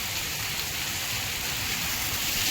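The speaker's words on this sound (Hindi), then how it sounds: "इतनी जोर से बारिश देखने को मिली है" Heavy rain pouring down as a dense, steady hiss of drops, loud and unbroken throughout, with no voices.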